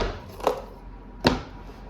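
A kitchen knife lodged in a spaghetti squash is slammed down to split the squash open, giving two sharp, close thuds about a second apart against a quiet background.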